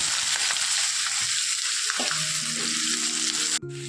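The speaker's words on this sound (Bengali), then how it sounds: "তারপরে আমি পেঁয়াজ কুচিগুলো দিয়ে দেবো এর মধ্যে।" Chopped onions frying in hot oil in a wok, a loud steady sizzle filling the clip with a brief clatter near the end and no talking.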